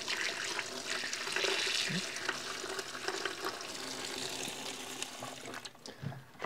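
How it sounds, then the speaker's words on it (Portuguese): Water is poured into a home container for keeping crabs, about two fingers deep, producing a steady close trickling and splashing with scattered small clinks over several seconds. "Vamos colocar aqui aproximadamente uns 2 dedos de água"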